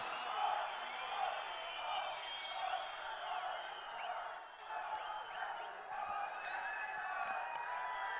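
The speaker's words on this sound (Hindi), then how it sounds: "एक बार जोरदार तालियों से स्वागत करें माननीय मुख्यमंत्री श्री जयराम ठाकुर जी" A large outdoor crowd at a Chamba election rally in Himachal Pradesh roars and cheers in a sustained, dense wash, welcoming Chief Minister Jai Ram Thakur, with scattered whoops rising above the steady distant din.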